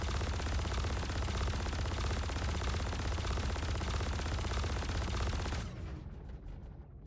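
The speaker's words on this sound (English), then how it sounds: "I hear shooting." Rapid sustained gunfire in a video game, a dense loud rattle of shots that runs steadily for several seconds before cutting off abruptly and fading to quieter noise.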